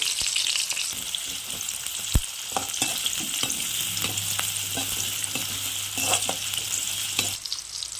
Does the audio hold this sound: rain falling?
no